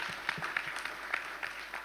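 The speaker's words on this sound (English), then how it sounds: "Give round of applause." An audience at an investment forum on Indonesian health and biotechnology claps in a brief, moderate burst with a few sharper individual claps standing out.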